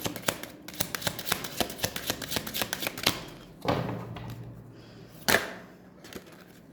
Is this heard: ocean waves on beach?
no